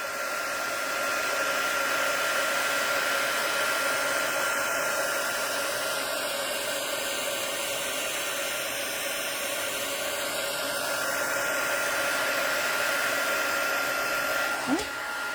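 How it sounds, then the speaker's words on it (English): A heat tool blows hot air over the glue on a junk-mail envelope, a constant, close whooshing roar that holds evenly throughout, ending with a brief click. "take your heat tool, and we're just going to go along where the glue is"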